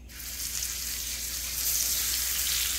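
Chilean sea bass is placed into hot olive oil and butter and sears with an immediate loud sizzle that holds steady and close without a break.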